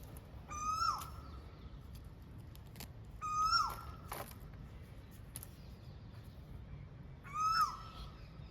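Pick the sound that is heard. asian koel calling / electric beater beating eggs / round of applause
asian koel calling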